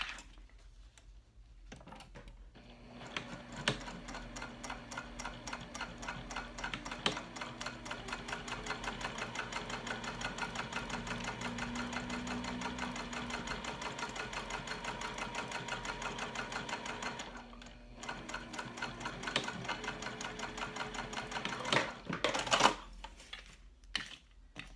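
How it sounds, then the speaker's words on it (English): A sewing machine top stitches a pocket on a teddy backpack, its needle hammering in a fast, steady rhythm for a long close run, briefly pausing and restarting before stopping, with no talking. "I'm gonna pop back over to the machine and then we're gonna top stitch this down."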